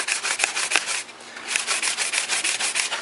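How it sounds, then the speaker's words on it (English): Sandpaper rubbed lengthwise along a PVC flute body, a close, steady series of rhythmic scratchy strokes with a brief pause midway. "Sand the whole body of the flute lengthwise."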